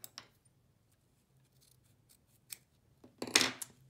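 Scissors trimming embroidery stabilizer, a few faint snips and a louder, closer crisp cut near the end, in an otherwise quiet room.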